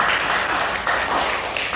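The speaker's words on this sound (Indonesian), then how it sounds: "Beri tepuk tangan buat wanita." A church congregation at a service claps in a short, dense burst, the applause steady and full throughout.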